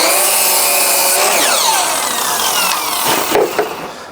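A power saw set to a 22.5-degree bevel slices loudly through a wooden board, with a steady whining cut for about three seconds before the blade spins down and the noise tapers off.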